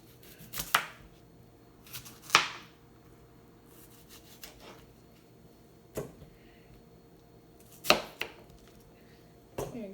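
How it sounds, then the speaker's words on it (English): A knife chops cucumber on a cutting board in six sharp, separate strikes at uneven intervals, close by in a quiet room. "we're just going to cut it into smaller pieces"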